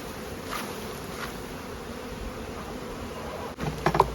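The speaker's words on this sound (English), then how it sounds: "A lot of bees in the feeder still." Many honey bees buzz in a steady, dense hum close by at a hive feeder, with a few brief knocks and rustles near the end.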